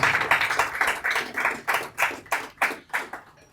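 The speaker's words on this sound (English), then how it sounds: "Please round of applause for her." Applause from an audience at a Lagos showroom unveiling and foundation-laying ceremony, heard as a short run of distinct, fairly close hand claps in an uneven rhythm that gradually thins out.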